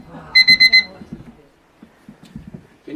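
A timer alarm goes off in a room during a talk, four quick bright beeps in a row, followed by people speaking.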